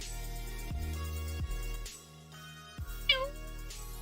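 A cat meows once over steady background music, a short rising-then-falling call near the end, moderately close.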